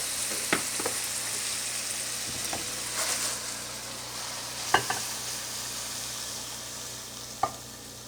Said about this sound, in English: I'm going to cook onions.